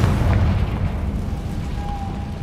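A Confringo fire spell explodes in Hogwarts Legacy, a dull booming burst at the start that fades into a low rumbling tail.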